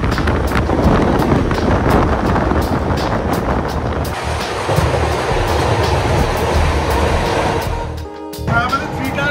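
The Kamrup Express speeding along the rails, a loud, continuous rumble and clatter of wheels with rhythmic rail clicks and wind buffeting, heard from inside or beside the carriage.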